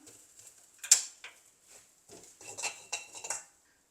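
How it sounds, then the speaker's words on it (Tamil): Sesame seeds are added to a pan with ghee and roasted for Diwali somas, with light metallic clinks and scrapes of a utensil against the pan coming in a few close, scattered taps. "நான் எள்ளை சேர்க்குறேன் எள்ளை சேர்த்து எள்ளையும் சேர்த்து வறுக்கிறேன்"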